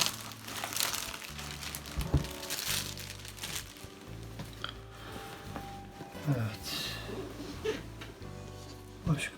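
Someone unboxes an Apple Magic Keyboard, with crinkling and crackling of tape and packaging being peeled and handled close by, under a person talking.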